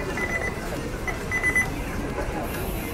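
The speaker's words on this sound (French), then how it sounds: "C'est comme les bip bip en cuisine chez McDo" A McDonald's kitchen fryer alarm gives a run of short, high electronic beeps in clusters, faint over a steady kitchen hum.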